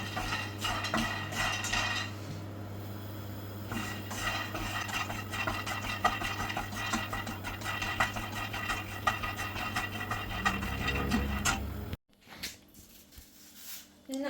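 Peanuts rattle and scrape in a pan as they're roasted over a raised gas flame and stirred, with metallic clinks and a low hum underneath, ending in a brief pause and some handling.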